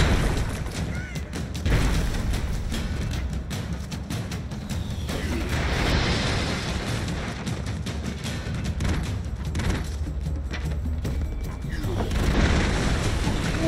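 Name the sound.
airstrike explosions in the video game Broforce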